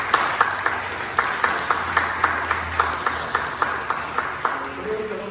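A church congregation claps together to celebrate an elder's upcoming birthday during a Sunday service, a steady hand-clapping rhythm at moderate volume with a faint low hum underneath.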